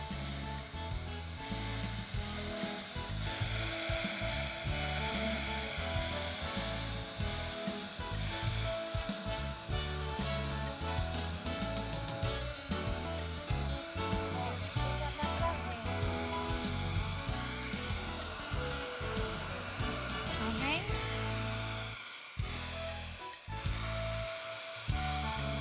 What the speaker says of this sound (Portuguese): Agora eu vou ligar o soprador térmico.